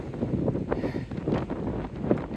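Gusty wind buffets the microphone on an Appalachian Trail hike through bogs, a continuous rough rushing with irregular louder puffs.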